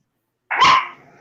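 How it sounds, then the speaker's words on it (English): A pet dog gives one sharp, loud bark right up close, which tails off quickly into quiet. "Somebody has a doggy."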